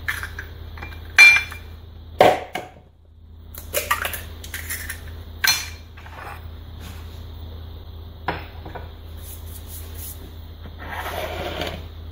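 Eggs go into a bowl for savory tuna mini cake batter: a few sharp clinks and knocks of shell and bowl, with quieter handling between, close and fairly soft, no voices.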